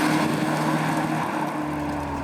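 Volvo 480 Turbo engine running steadily, a continuous low droning hum with faint harmonic tones, moderately loud and close, with no talking over it.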